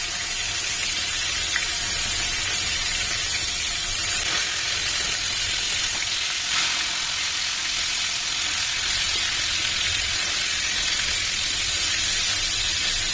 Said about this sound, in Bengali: মাছগুলো ভাজা হয়ে গেছে, এবার আমি তুলে রাখবো।